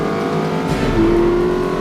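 A car engine in The Saboteur video game revs and accelerates, droning loud and close for a couple of seconds, with no talk over it.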